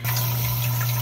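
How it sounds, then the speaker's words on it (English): A water pump pushes water through hydroponic tubing in an indoor kitchen NFT system, a steady close hum with a continuous rushing, watery wash. "This tubing right here is connected to a water pump."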